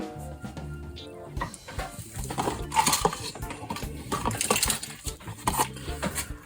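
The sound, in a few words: removing MacBook Pro motherboard screws with a screwdriver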